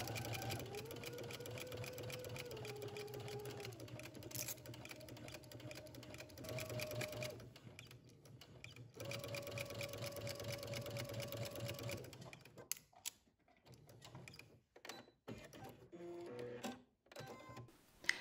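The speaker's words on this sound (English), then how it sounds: "we'll go to the sewing machine and we'll insert a basting stitch" A sewing machine runs in steady bursts of rapid mechanical stitching, pausing between runs, followed by quieter handling clatter near the end.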